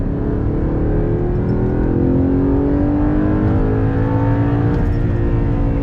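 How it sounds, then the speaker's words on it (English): A 2009 Audi R8 Carbon Package's exhaust drones loudly and continuously while driving, the engine note rising and shifting in pitch as it pulls, heard from inside the car with no talking. "Oh man, the exhaust note is beautiful."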